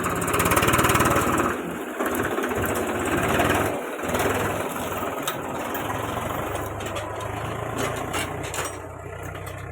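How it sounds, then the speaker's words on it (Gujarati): A tractor carrying potatoes to the Thara vegetable market runs with a steady, loud, buzzing engine drone that holds through the whole stretch, with slight rises and dips in intensity. "ટ્રેક્ટર જઈ રહ્યું છે થરાના માર્કેટમાં બટાકા લઈને."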